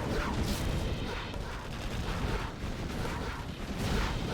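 Artillery shells fire and explode in a Command & Conquer Generals match, GLA against a superweapon general: a dense, continuous barrage of deep booms and rumbling blasts, loud and close, with no pause.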